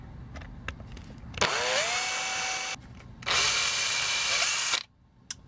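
A power drill fitted with a 2.5 mm bit whines in two sustained bursts into a Transformers G1 Dragstrip toy, loud and close, with a brief pause between and faint clicks around them.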